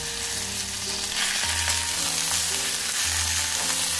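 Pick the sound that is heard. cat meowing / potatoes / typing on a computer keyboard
potatoes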